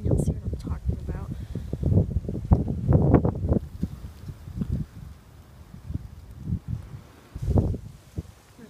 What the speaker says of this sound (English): Just wait for a big wind gust to come up here.